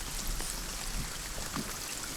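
Steady rain falls with a dense, even patter, close and continuous, with no voices over it.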